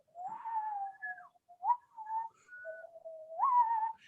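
A person whistles a short, wavering melody alone, each tone sliding up and down in pitch with brief gaps between phrases, clear and fairly close.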